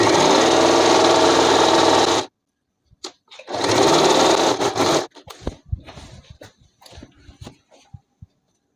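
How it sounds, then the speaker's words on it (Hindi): A sewing machine stitches a palazzo being made from a petticoat, running loud and close in a long steady burst, then a second stretch, followed by scattered clicks and handling noises of the fabric and machine. "फिर इसमें सिलाई लगा के इसको पूरा रेडी कर देंगे।"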